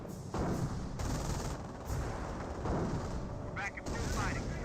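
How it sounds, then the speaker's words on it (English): Anti-tank gun and mortar fire in the strategy game Company of Heroes, a dense run of booms and rattling gunfire, moderately loud, with brief voice fragments. "Seeing some various AT gun fire, mortar fire."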